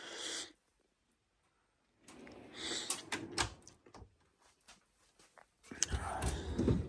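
A Cobalt plier drawer in a toolbox slides open or shut with a short rattling burst, then a longer stretch of scraping and clattering metal. It is fairly close, and no one speaks.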